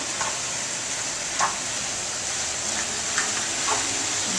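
A sausage sauce sizzles steadily in a pan with a loud continuous hiss, while a spoon stirs through it in a few soft scraping strokes as it melts and blends.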